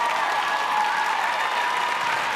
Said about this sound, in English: Trisha Broadbridge and Sasha, please, a round of applause.